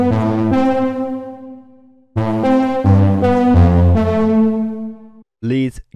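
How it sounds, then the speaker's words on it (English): A buzzy, distorted synthesizer lead plays a short melodic phrase of sustained notes, loud and up front, ending with a brief bent note. "it's a really unique distorted lead sound"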